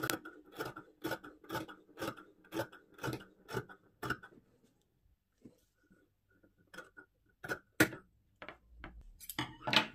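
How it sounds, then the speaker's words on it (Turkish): Scissors cut sewing fabric along a marked line, snipping in a quick, even rhythm of close, crisp clicks, then a few scattered, sharper cuts after a short pause. "Çizgiden kesiyorum."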